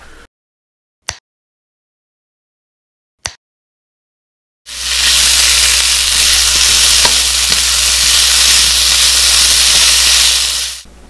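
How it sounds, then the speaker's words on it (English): Vegan sausage fries in a pan with a steady, loud, close sizzle and hiss that starts abruptly after two sharp clicks and runs unbroken for several seconds. "Gonna cook some vegan sausage here."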